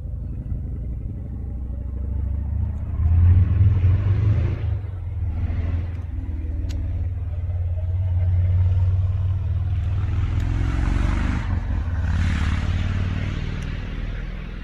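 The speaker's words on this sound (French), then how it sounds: "Désolée pour le bruit, j'ai coupé au moins 15 fois la vidéo pour des voitures qui passent." Cars pass by outside in a steady low rumble lasting throughout, swelling and fading as vehicles go past, with faint hiss from the tyres and no talk.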